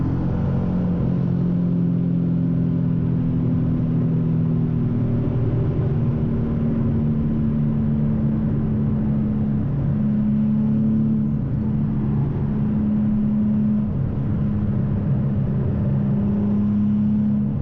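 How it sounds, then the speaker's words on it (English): Loud, steady engine drone of a Nissan 370Z Nismo in fifth gear fills the car cabin, a deep rumbling hum with a sustained low tone that holds for the whole stretch, no talking. "It's so loud inside the cabin."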